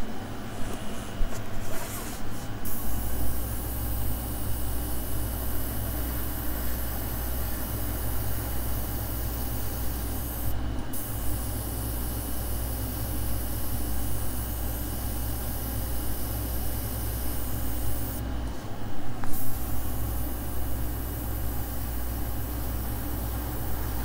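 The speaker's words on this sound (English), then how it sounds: "I am going to airbrush the edges out because this is a flip and drag" Airbrush spraying acrylic paint onto the edges of a flip-and-drag acrylic pour, a steady hissing spray running the whole time with a low compressor hum beneath it, no talking.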